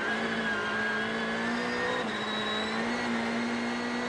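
Sébastien Loeb's rally car on studded tyres powers along a very slippery stage at the 2013 Rally Sweden, its engine droning loudly and steadily throughout with a sustained high whine and slight pitch shifts.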